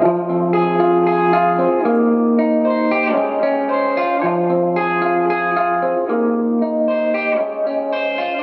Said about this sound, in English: the reverb, very important for this guitar sound